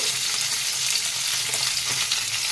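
Potato and cauliflower pieces sizzle and crackle steadily in hot oil in a pan, a continuous frying hiss with occasional pops, no talking.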